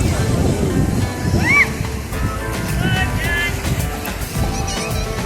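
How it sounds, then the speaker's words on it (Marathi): Sea waves wash and break steadily onto Alibag beach, with voices and brief high calls nearby in the background. "आता छान छान लाटा पण येत आहेत"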